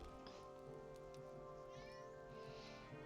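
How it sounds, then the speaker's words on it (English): A cat lets out a drawn-out, wavering meow amid a dense, steady hum of background noise, fairly faint and with no talk over it. "Why is the cat screaming?"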